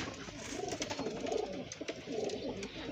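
Loft pigeons kept for flying give low, steady coos in repeated rolling phrases, moderately close, over a constant hiss with occasional faint clicks and knocks.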